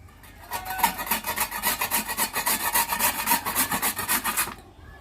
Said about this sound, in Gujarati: આ રીતના આપણે એને છીણી લેવાના છે બધા ગાજરને.